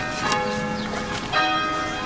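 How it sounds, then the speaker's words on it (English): Church bells of a village bell tower peal with overlapping tones, ringing steadily and fairly loud over a quiet room background. "Those bloody bells."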